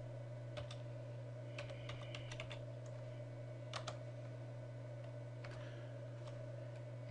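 A username is typed on a computer keyboard in short, light bursts of clicks separated by pauses. The keystrokes are faint against a steady low electrical hum.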